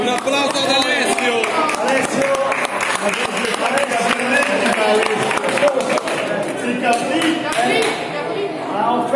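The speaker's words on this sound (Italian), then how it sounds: "Quindi un applauso ad Alessio." Warm applause from a convivial gathering of the Ferraresi association at the MAP in Pontinia, steady dense clapping from a nearby crowd lasting throughout, with some chatter mixed in.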